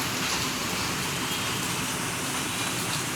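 Steady rain falls on a rainy day, a dense, even hiss that stays constant and fairly close throughout, with no voices.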